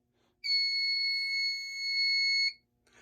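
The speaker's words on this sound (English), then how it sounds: "That smoke detector took forever to activate" A shrill smoke alarm blares in one continuous high-pitched tone for about two seconds, then cuts off abruptly.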